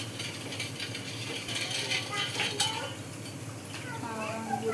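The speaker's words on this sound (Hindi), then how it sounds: "इसको थोड़ा घुमाना है ताकि हमारी चीनी अच्छे से मेल्ट हो जाए" A spoon scrapes and clinks against a pot while sugar and water are stirred into syrup for gulab jamun, steady metallic rubbing under a faint background hum.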